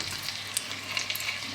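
Butter simmers in a pan as beef for bœuf bourguignon goes in, giving a steady close sizzle with a few small crackles; no speech.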